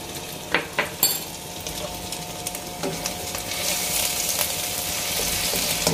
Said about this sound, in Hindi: इसमें थोड़ा सा लहसुन को सौटे करना है, बस 20-30 सेकंड के लिए।